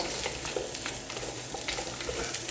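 Onions and peppers sizzle in a hot pan, a steady close crackle and hiss with light stirring scrapes and no talk over it.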